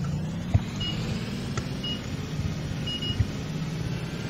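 A 2017 BlueBird Vision school bus approaching in the Rigs of Rods driving simulator: a steady low engine drone with a few faint high electronic beeps and two brief thumps.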